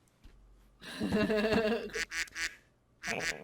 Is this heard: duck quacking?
yes